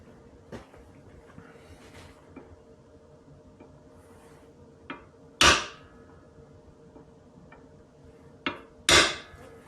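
Two sharp metallic hammer blows on a punch, scoring a mark into metal on an adventure luggage rack for a KTM 690 Enduro R, each strike loud and ringing against quiet background with a few faint taps.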